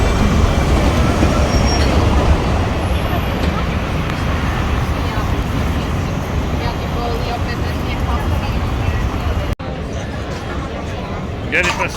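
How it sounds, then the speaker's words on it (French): An old Lisbon tram rolls along its rails with a steady, close, broadband rumble that holds for about ten seconds and then briefly drops away. Faint voices can be heard in the background. "Le fameux vieux tramway de Lisbonne."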